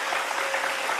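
A studio audience on a Moroccan television show claps steadily for a singer in a short, even burst of applause with no voices over it.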